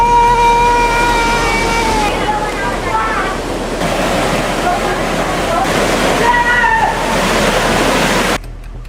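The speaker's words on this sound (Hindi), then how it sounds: "नाले का पानी काफी तेज रफ्तार से गंगा नदी में समा रहा है" Drain water pours fast into the Ganga river with a loud, continuous rushing roar, while a voice talks over it and thin tonal sounds drift through. The sound drops off abruptly near the end.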